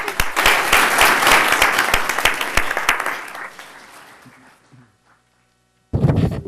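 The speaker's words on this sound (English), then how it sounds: "Another round of applause." Audience at a Sacramento City Unified School District board meeting applauding, dense clapping that fades out, a short silence, then clapping resumes abruptly.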